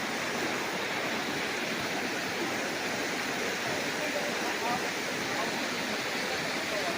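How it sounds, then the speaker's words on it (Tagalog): A river beside a farm lot in Liliw, Laguna babbles and rushes in a continuous, even wash of flowing water, close and unbroken for seven seconds with no other sound standing out. "dinig na dinig natin ang lagaslas ng ilog"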